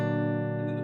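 A single rhythm chord on a guitar's bottom four strings rings out briefly, a full sustained strum with rich overtones.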